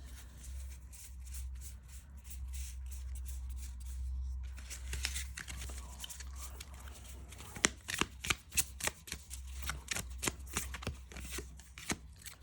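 Oracle cards are rubbed and shuffled by hand, starting as soft sliding and building into a quick run of crisp riffling snaps.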